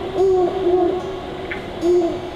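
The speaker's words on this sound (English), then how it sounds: "Yep, the great horned owl." Great horned owl call played from a toy sound button in an indoor kids' playground: a series of low, steady hoots repeating in a slow rhythm, clear and fairly loud with no talking over it.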